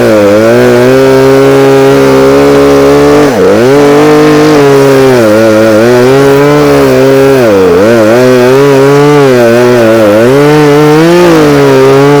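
A chainsaw runs loud and close the whole time, its engine note dipping and revving as it cuts limbs at an old general store property in rural Tennessee.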